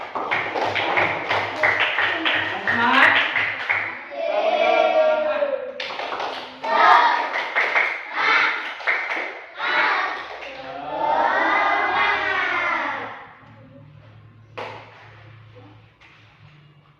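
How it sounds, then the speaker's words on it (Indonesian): Schoolchildren in a classroom lesson clap in quick rhythmic bursts, then shout and chant loudly in unison between the claps, with a few voices close by. "Tepuk tangan untuk kita semua."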